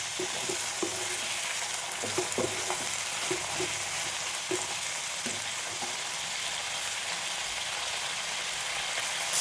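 Raw jackfruit seeds frying in oil for a curry, a soft continuous sizzle with scattered scraping stir strokes from a spoon in the pan, fairly quiet and close.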